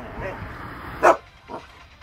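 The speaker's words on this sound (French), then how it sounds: "un bon sang de chien est venu foutre en l'air ma planque" A single loud, sharp dog bark nearby, followed by a fainter yip, over a steady low background noise.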